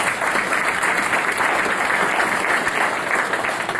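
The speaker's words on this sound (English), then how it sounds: "Let's give Lana and NuLink a warm round of applause." Steady, dense applause from a crowd at a business breakfast meeting, loud and continuous throughout with no voices standing out.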